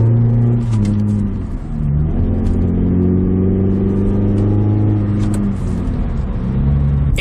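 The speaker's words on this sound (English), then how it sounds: "It's been so long since this car has been running." A car engine runs steadily up close, a low droning rumble with pitch shifts as it revs slightly, continuous throughout.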